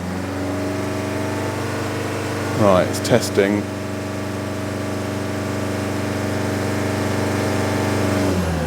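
A Land Rover Freelander 2 engine idles steadily and then rises slightly in pitch near the end; a voice speaks briefly partway through.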